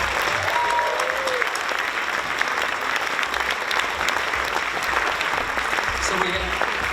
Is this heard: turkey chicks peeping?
no